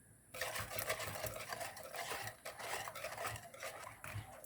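A utensil stirs muffin batter in a bowl, with quick scraping and clinking strokes in an irregular rhythm, close and fairly quiet, with no talk.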